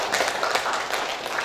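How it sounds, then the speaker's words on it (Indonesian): Audience applause at a Bogor district government program gathering, a steady dense wash of many hands clapping throughout, moderately loud and continuous without distinct voices. "Tepuk tangan untuk Bogor."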